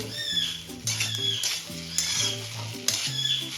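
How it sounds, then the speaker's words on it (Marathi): Spices being stirred into egg rice in a pan, with a spoon scraping and clinking against the metal over a soft sizzle, in irregular strokes at close range; background voices drift faintly underneath. "आता आपण हे सर्व मसाले छान मिक्स करून घेणार आहोत अंडा राईसमध्ये"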